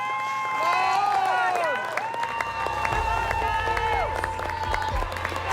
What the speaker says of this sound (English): that's why people are cheering when they're eating banana bread